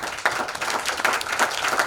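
An audience at the Gathering of Eagles Conference claps for the team from Kiambu, a brief burst of dense applause from a crowd indoors.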